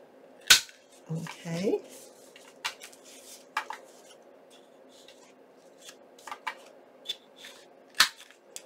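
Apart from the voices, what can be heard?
corner rounder punching the corners of index cards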